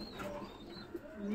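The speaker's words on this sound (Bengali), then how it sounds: "তো এই বাচ্চা পায়রাগুলোকে ছাড়া হবে" Young pigeons cooing softly nearby in short low warbles, a faint continuous murmur with no talk.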